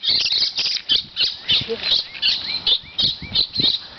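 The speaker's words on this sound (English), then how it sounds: "You're pissing all the birds off." Agitated birds squawk in repeated harsh bursts with some chirps mixed in, fairly close, while a person talks over the commotion as a puppy chases them.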